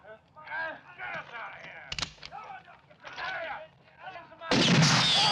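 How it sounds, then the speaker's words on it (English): Gunfire breaks out in a scene from an Italian western, with sharp shots rising among voices that talk and shout throughout, then a loud, sustained burst of noise near the end. "They're firing at us."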